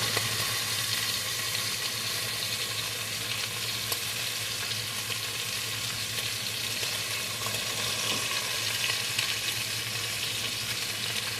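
Chuck steak sizzles and fries steadily in a hot pan, a loud, continuous crackling hiss with no break and no voices over it.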